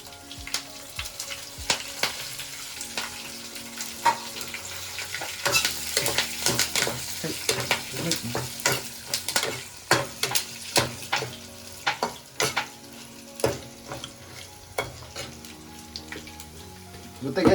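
Coriander seeds and curry leaves frying in a pan, with repeated scraping and stirring strokes over a soft sizzle, close by.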